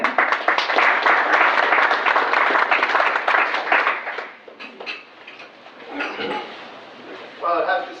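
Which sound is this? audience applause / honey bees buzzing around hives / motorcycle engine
audience applause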